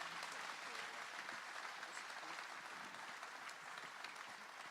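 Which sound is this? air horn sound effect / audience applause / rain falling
audience applause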